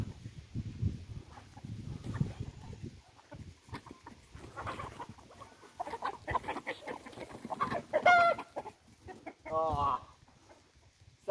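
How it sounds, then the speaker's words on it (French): Several chickens cluck and chatter nearby in bursts, with a few sharper squawks toward the end. "Alors là on a les poules jeunes."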